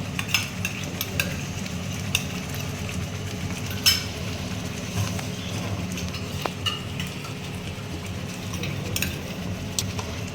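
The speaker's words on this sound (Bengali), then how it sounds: "দিয়ে আবারও এগুলোকে ভালো করে মিশিয়ে নেব মশলার সাথে" Prawn masala with sour yogurt and spices is stirred in a pan, with steady frying sizzle, scattered utensil scrapes and clinks close by, and no one talking.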